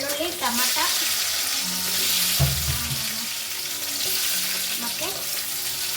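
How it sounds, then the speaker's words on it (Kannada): Onion, garlic and tomato for a chutney frying in oil, a loud, continuous sizzle close by with the scrape and shuffle of stirring running through it. "ಇದು ಚಟ್ನಿ ಎಣ್ಣೆಯಲ್ಲಿ ಫ್ರೈ ಮಾಡ್ಕೋಬೇಕು"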